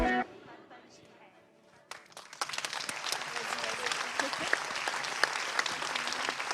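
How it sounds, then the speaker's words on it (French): Audience applause rising after a stage performance at a French cultural event, starting faint then swelling into dense, sustained clapping from a crowd that fills the room. "on peut les applaudir très fort"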